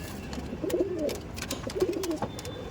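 Lambari pigeons, an old breeding line, coo in two low, rolling phrases close by, with faint background clatter and no clear wingbeats.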